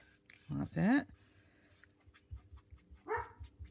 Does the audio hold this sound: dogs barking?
yes